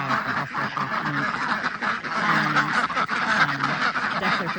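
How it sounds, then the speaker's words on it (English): Ducks on a farm quack loudly and close by in a busy, overlapping chorus of repeated nasal calls, continuous throughout. "And ducks are fantastic."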